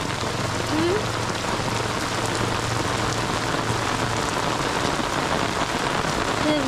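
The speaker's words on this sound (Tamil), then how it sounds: "செம மழை பெஞ்சிட்டு இருக்கு" Heavy rain pours steadily onto surfaces nearby, a dense, even hiss of drops with no letup and faint background sounds.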